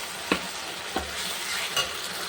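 Onion and spice masala get stir-fried in a pan: a continuous sizzle cut by three distinct scraping stirs of a spatula at roughly even intervals, close by, with no talking.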